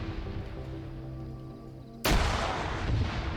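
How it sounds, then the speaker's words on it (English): A grenade blast in an Arma 3 firefight bursts in loudly partway through, sharp and broadband, after a steady low engine-like hum and with a rumbling, noisy tail that carries on. "Grenades going off."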